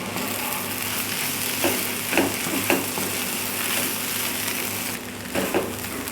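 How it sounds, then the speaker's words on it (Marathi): Masala with finely chopped tomato sizzles steadily in a pan for spicy mutton curry, a constant frying hiss broken by a few soft stirring scrapes, close and with no voices. "मसाला आपला मस्त फ्राय झालेला आहे एक टॅमॅटो बारीक चिरून आपण याच्यामध्ये टाकलेला आहे"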